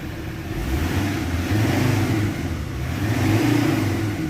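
A Ford Ranger's engine, flushed with diesel during an oil change, revs in close, loud rumbling surges that rise and ease in a steady pattern, with no talk over it.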